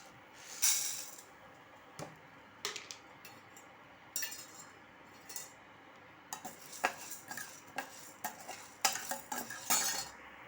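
Chana dal and urad dal roast dry in a pan while being stirred, heard as quiet rattling of lentils and repeated scraping clinks of a spoon, growing busier toward the end, with no speech.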